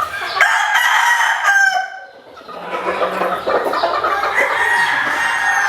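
A Bruce Barnett Yellow-Legged Hatch gamefowl rooster crows loudly and close by, then gives way to a steady stretch of clucking and rustling farmyard noise.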